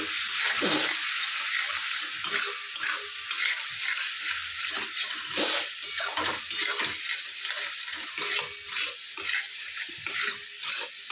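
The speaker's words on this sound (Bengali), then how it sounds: "মশলাটা ভালো করে কষিয়ে নেব আমি" Masala for a dry sarson paneer is sautéed in a pan, a loud continuous sizzle with repeated stirring scrapes close up throughout.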